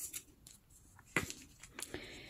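Chipboard being cut into two strips from a leftover piece, heard as a few short crisp snips and rasps close by, with quieter handling noises between them and no talk.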